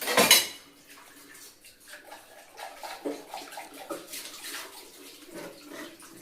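Dishes being washed under running water, starting with a sharp clatter and splash, then intermittent clinks of pots and utensils over a trickle of water, close and fairly quiet.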